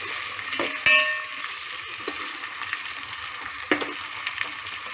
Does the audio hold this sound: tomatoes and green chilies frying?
yes